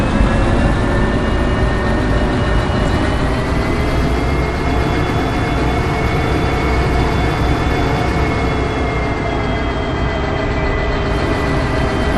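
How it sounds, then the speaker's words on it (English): A heavily loaded train starting to move in the video game Derail Valley, a loud continuous locomotive drone with a low rumble and sustained tonal whine that holds steady throughout, with no voices. "Now this is a heavy train, so that being said, it's going to take a second to get it up to speed."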